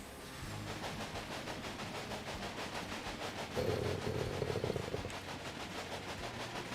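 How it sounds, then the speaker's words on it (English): A train runs in the railway management game Railway Empire, a steady rumbling rail sound with a louder, rougher passage midway, playing over continuous game music. "there's a train. I thought I saw a train."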